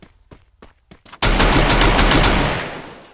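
Loud, rapid automatic gunfire in the Free Fire battle game: a few separate shots, then a dense continuous burst that fades toward the end.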